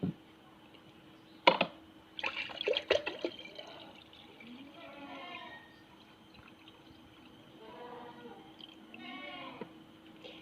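Lime water poured into a container to fill it to one liter gives a faint, trickling splash that comes and goes, with a person talking over it throughout.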